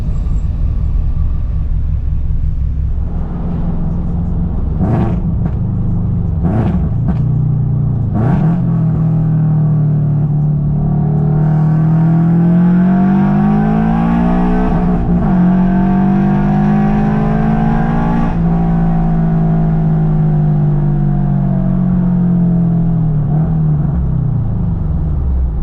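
Warmed-up Toyota GR86 engine fitted with a new over pipe and front pipe, idling with a deep steady rumble, then several quick throttle blips before rising into longer sustained revs that climb and fall back toward idle.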